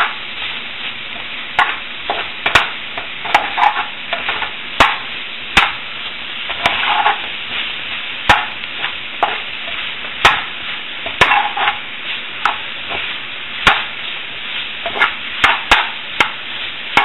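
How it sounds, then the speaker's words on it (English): Mushrooms cook down in olive oil in a pan for shrimp Marsala, a soft steady sizzle broken by repeated sharp scrapes and taps of a utensil stirring, close and without talk. "The mushrooms are cooking down under the olive oil."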